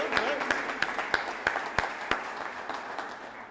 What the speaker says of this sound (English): Heard some round of applause going on